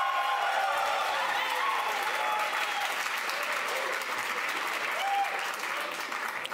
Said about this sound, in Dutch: u mag uw applaus nog een keer geven